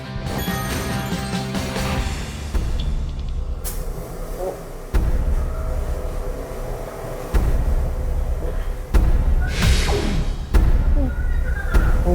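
Subway train ride in a fire-safety training simulator at a safety experience center, a loud continuous rumble with heavy thumps and jolts recurring every couple of seconds, close and enveloping, with voices faintly underneath.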